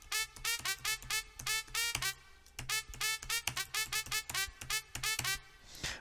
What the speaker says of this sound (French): je te fais écouter en exclusivité un des presets et quelques presets de The Horn Volume 2